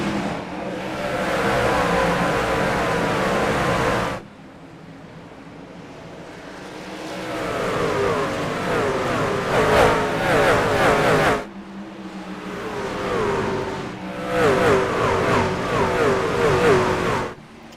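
Racing trucks roar around Bristol in the iRacing simulator, a loud continuous engine drone that surges and revs in long waves with sharp cutoffs, no voices over it.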